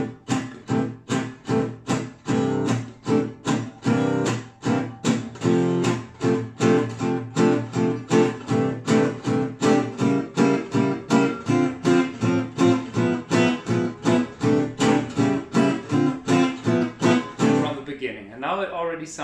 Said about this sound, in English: Now it already sounds like a blues from the 30s.